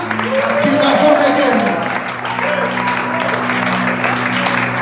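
A church congregation applauding at an evening worship service, sustained dense clapping and cheering from a large crowd, fairly loud and continuous, with voices and music mixed in.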